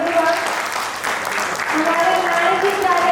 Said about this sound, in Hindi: company के नाम पे जोरदार तालियां बजती है यार